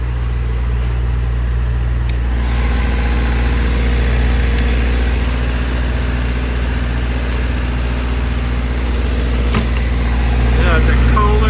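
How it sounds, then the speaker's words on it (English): A Kohler generator running aboard a Freightliner MT55 Grumman Olson SWAT mobile command truck, a loud steady mechanical hum and drone that holds constant throughout, close by with no pauses. "It's a Kohler generator."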